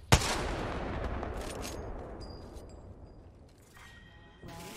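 A single loud gunshot from Apex Legends gameplay rings out, followed by a long, fading echoing tail and faint mechanical clicks.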